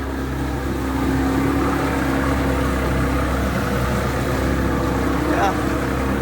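A boat motors along a river past the Detroit skyline near the Ambassador Bridge, its engine droning steadily at a constant pitch, close and fairly loud throughout, with wind and a brief voice-like sound near the end.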